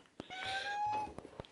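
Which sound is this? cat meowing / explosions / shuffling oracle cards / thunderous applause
cat meowing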